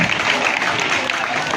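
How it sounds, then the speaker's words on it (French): Audience clapping at a school celebration, a brief, dense, evenly sustained round of applause filling the whole moment. "applaudissez-vous pour votre présence massive."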